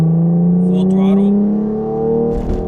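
A car in a racing video game, fitted with an RR-Racing tune, is held at full throttle. Its engine drones steadily and climbs slowly in pitch, loud and alone, with a rougher burst at the end.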